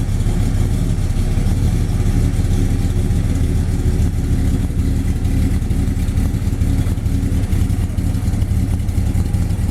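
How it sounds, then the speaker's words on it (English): A 1955 Chevy Bel Air two-door hardtop resto-mod with a 350 V8 runs steadily just after a cold start, a loud, continuous low engine rumble close by while it backs out of a garage. "Cold start. He's backing it out of the garage here for me."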